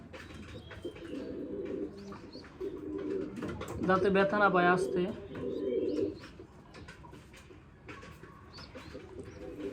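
One-day-old pigeon chicks being hand fed through a small pipe, giving soft cooing and squeaky calls that peak briefly in the middle, close by, under a person speaking gently.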